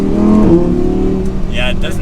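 An Audi R8 V10 in comfort mode gives a subdued, steady exhaust drone, fairly close and continuous, with voices talking over it.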